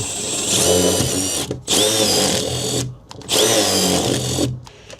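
A power drill bores a wire hole for a FOGATTI InstaShower 8 Plus water heater's control panel, whining loudly and close in three sustained bursts with brief pauses between them, no voices.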